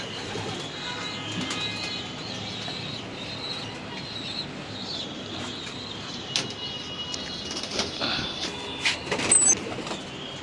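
Racing pigeons flutter and flap their wings amid steady outdoor background noise, with a burst of louder flapping toward the end.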